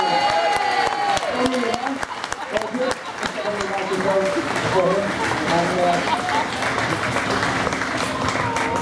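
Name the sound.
applause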